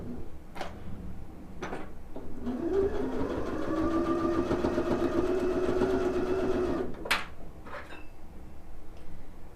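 A sewing machine runs steadily for several seconds, stitching quilt batting under a 1/4 inch guide around a neck curve, with a few clicks and handling noises before and after the run.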